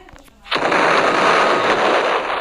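A bomb goes off during a bank robbery video game, a sudden loud blast that swells into a sustained rumbling roar after a quiet start.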